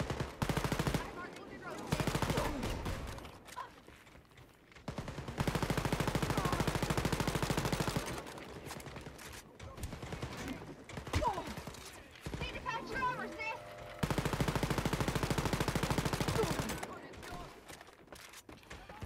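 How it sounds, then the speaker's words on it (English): Bursts of automatic gunfire from a weapon in Wolfenstein: Youngblood rattle in loud rapid volleys separated by short pauses, with a voice talking at times between and over them. "I really like how this gun shoots and how it feels."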